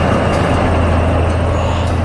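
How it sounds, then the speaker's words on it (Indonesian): A steam train running through quiet countryside, heard as a steady, loud, continuous rumble of rail noise with no distinct chuffs. "Lihatlah kereta uap itu melaju dengan anggun membelah pemandangan desa yang tenang."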